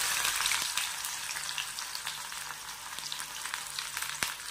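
Cinnamon, bay leaf and finely chopped onion fry in hot oil with a steady, close sizzle, broken by a few sharp stirring clicks, and nobody speaks.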